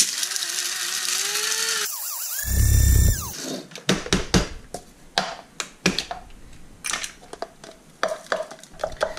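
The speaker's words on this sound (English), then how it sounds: "Take some coffee grain, grind it." An electric grinder whirs loudly through coffee beans for about three seconds, a steady high mechanical whine, followed by scraping and clattering handling sounds.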